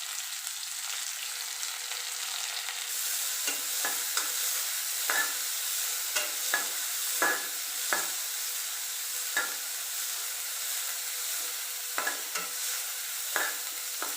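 Chopped onion sautéing in a pan for vendakka thoran, a steady bright sizzle with intermittent scraping stirs of a spatula, no voices.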